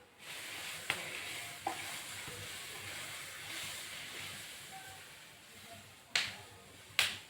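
Chillies dry-roasting in a pan for chutney give a soft, steady sizzle and hiss, with a few sharp taps and scrapes from stirring, including two louder clatters near the end, and no talking.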